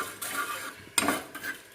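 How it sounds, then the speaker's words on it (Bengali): Coriander, cumin and a dried red chilli fry in hot oil, giving a soft, brief sizzle punctuated by a sharp metallic clink of a utensil against the pan. "একটু ধনে, একটু জিরে আর একটা শুকনো লঙ্কা, আমি এটা তেলে আমি মশলাটা মিক্সড করে নেব, ভাজা ভাজা করে নেবো এখন আমি তেলে"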